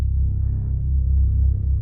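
Deep sub bass pattern from a sample kit, a dark orchestral trap-style beat, droning low and loud with a steady throbbing pulse and no other sounds.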